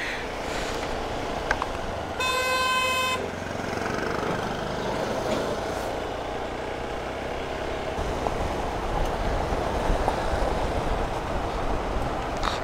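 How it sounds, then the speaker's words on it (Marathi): A Konkan Railway train on the line beside the Mumbai–Goa highway sounds a loud, clear horn blast of about a second, followed by a sustained rumble of the passing train mixed with wind and road noise. "कोकण रेल्वे."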